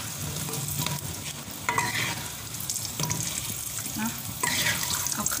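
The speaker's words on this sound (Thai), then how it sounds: "จริงๆเขาต้องเอาขึ้นนะ เอาขึ้นพักหนึ่งแล้วก็ทอดอีกรอบนึงเอาขึ้นทำให้ดูเลย" Battered fish deep-frying in hot oil in a home kitchen, giving a constant close sizzle and crackle with occasional stirring and splashing noises.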